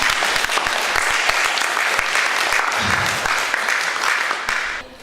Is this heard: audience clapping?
yes